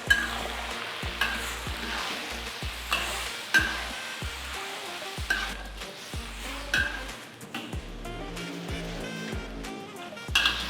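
Green chili sambal with salted squid frying in oil as a spatula stirs it, producing a sizzling crackle punctuated by regular, loud metallic scraping strokes against the pan, close up with no talk.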